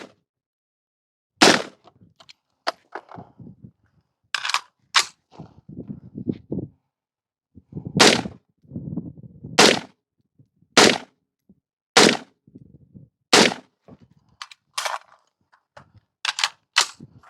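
Rifle shots ring out during patrol rifle instructor training, a dozen or so sharp loud cracks spaced irregularly a second or two apart, with quieter handling noises and rustling between the shots.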